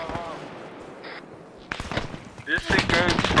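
Gunfire from locals in a military shooter video game crackles in rapid, irregular bursts of sharp, fairly close shots, rising in intensity toward the end, mixed with voices talking.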